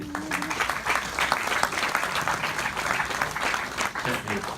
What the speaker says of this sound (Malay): Kan give them a round of applause.